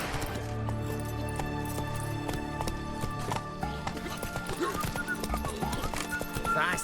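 A horse gallops in The Witcher 3, rhythmic clip-clop hoofbeats pounding steadily and close, with a whinny and some jingling tack mixed in.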